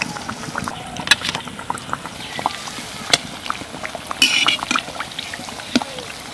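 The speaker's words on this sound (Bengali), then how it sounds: "তবে চপ ভাজতে গেলে একটু ডোবা" Mango chops deep frying in oil make a continuous bubbling, hissing bed with scattered sharp pops and crackles, close and moderately loud.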